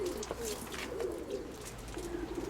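Soft, low pigeon coos repeat faintly over a quiet outdoor hum, with a few muffled background noises.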